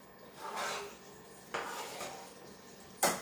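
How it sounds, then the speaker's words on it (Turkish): A spoon scrapes and stirs food in a pot in three separate, quiet strokes, each a soft rasping sweep, with a sharper clink at the end and no talking. "Şöyle bir karıştırayım."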